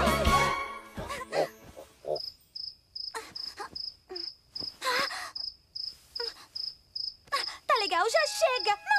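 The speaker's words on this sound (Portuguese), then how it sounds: "Não dá pra dormir com toda essa barulheira! Eu vou achar o grilo, pegar o grilo e jogar o grilo pra fora de casa." Cartoon cricket chirping in a house at night, a steady run of short, evenly spaced chirps in repeated bursts, with brief voice sounds and a clatter at the start and a rising animated squeal near the end.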